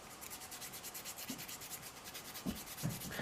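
Soft, steady rubbing and scraping of a file roughing up a fingernail surface before gluing on press-on nails, with a few brief louder strokes near the end; close and quiet, no talking.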